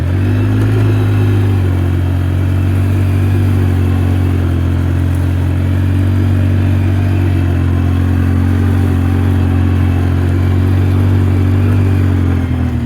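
A 2006 Polaris Sportsman 800 ATV rides through trees, its engine running steadily and loudly up close with a constant low drone and some clattering throughout, with no talking.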